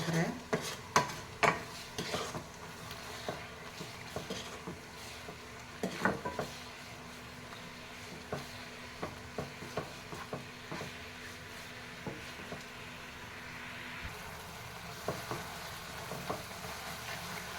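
Carrot halwa being stirred in a pan, a faint run of scraping and clinking strokes from the spoon against the metal with a soft sizzle beneath, the strokes arriving irregularly all the way through.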